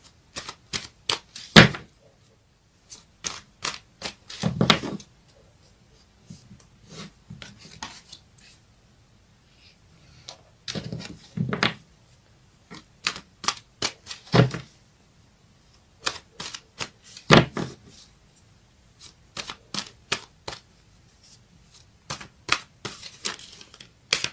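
Tarot cards are shuffled by hand in quick crisp riffling bursts, each a second or so long and separated by short quiet gaps, close and fairly loud.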